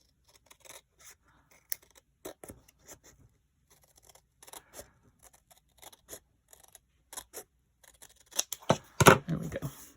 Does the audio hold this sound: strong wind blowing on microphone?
no